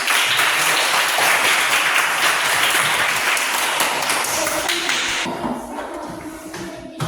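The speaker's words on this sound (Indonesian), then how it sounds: "Berikan tepuk tangan." Classroom audience of teacher-training group members applauding after a group presentation, dense steady clapping for about five seconds before thinning out, with some murmuring underneath.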